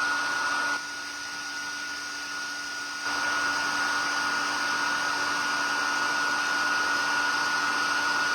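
A heat tool blows hot air to set embossing powder on a stamped sentiment for card making, a steady loud whirring whine that dips briefly before settling into a constant drone.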